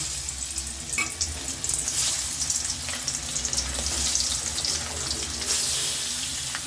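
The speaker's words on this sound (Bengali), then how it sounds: "আগে আমি লবণ হলুদ দিয়ে মাছগুলো মেখে রেখেছিলাম এখন আমি বেজে নেব" Turmeric- and salt-marinated fish frying in hot oil, a steady close sizzle with crackling bursts that rises briefly near the end, no voices.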